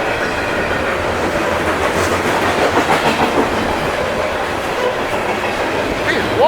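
A loaded CSX coal freight train rolls past close by in Germantown or Boyds, Maryland, a loud continuous rumble with rhythmic clickety-clack of wheels over rail joints and faint squeals near the end.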